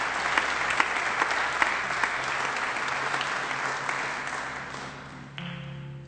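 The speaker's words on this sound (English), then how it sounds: "So how about a big round of applause for CT Folk as well." Audience applause at a folk concert, a steady wash of many hands clapping filling the room for several seconds, tapering slightly near the end as a low tone enters.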